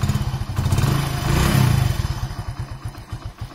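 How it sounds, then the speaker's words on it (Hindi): Idling motorcycle engine fitted with its normal stock exhaust, a steady close putter of regular low thumps with a brief swell in revs midway before settling back to an even idle, no voices. "उसके बाद जो हमारी गाड़ी का नॉर्मल साउंड है वो मैं आपको सुना देता हूँ।"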